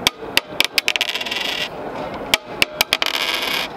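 Small 1-cent and 2-cent euro coins drop and clatter onto a hard surface in two bursts of quick metallic clinks, close and fairly loud, with scraping between.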